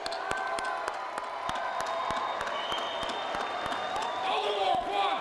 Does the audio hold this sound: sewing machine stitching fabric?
no